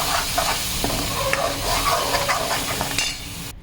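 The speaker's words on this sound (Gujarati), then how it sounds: "સરખી રીતે મિક્સ કરી લેવાની છે। નીચે ચોટે નહીં એનું ધ્યાન રાખવાનું છે।" Dal mixture with tomato puree being stirred in a hot pan, a soft steady sizzle with scraping and light clinks of the spoon against the pan, close up.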